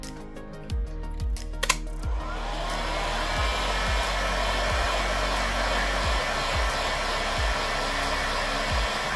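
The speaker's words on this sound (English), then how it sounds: "let me blow a little bit of heat right here on this side again" A heat gun blows a steady, loud rush of hot air during an iPhone 13 Pro screen repair, a constant whoosh with a few small clicks and handling taps, no talking.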